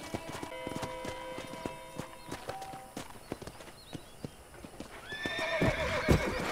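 Horse hooves clip-clopping with neighs and whinnies in the Red Dead Redemption western video game, steady hoof beats through the clip and a louder whinny near the end, over game ambience.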